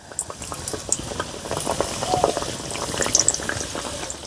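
Cauliflower Mughlai parathas fry in hot oil, giving a steady bubbling, crackling sizzle at moderate loudness with small pops throughout.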